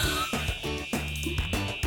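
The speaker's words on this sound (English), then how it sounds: "I think the fire alarm is going off." A fire alarm sounds inside a craft conference venue in California, a steady high-pitched electronic tone with a repeating buzzing pulse roughly every half second, loud and continuous with no talking.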